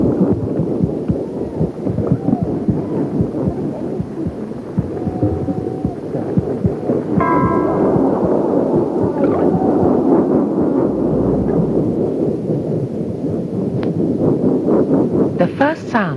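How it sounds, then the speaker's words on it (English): Muffled gurgles and deep rumbles of a mother's body as perceived from inside the womb through amniotic fluid, a continuous low throbbing, pulsing wash with a few brief higher squeaks, steady and enveloping. "The first sounds the fetus heard, as her ears started picking up vibrations at 13 weeks, were the gurgles and rumbles made by the mother's body."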